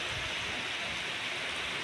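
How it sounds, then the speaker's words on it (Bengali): Heavy rain falls steadily outside, a dense, even hiss with no breaks and no talk. "বাহিরে প্রচুর বৃষ্টি হচ্ছে"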